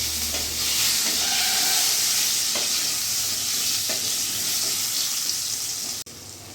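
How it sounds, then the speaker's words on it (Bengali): Potatoes frying in a pan with a steady, close sizzle of hot oil, broken by occasional stirring clinks and scrapes. "এরই মধ্যে আমি আলুগুলোও ভেজে নেব"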